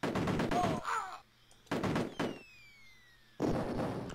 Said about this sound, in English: More grenades here.